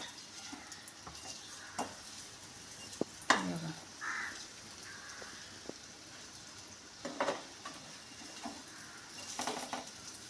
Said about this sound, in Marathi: आता आपण दुसऱ्या साईडला परतो पलटी करून फ्राय करून घेऊया